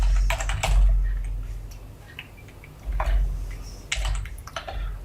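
Computer keyboard typing while entering code, in quick bursts of close, crisp clicks separated by short pauses, with a low background hum and no speech.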